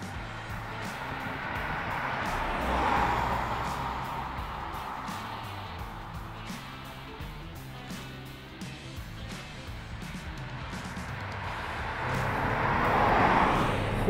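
A 2021 Acura TLX Advance SH-AWD cornering gives a steady, moderately loud engine and road drone, swelling twice as it pulls through the turn, with no talk over it.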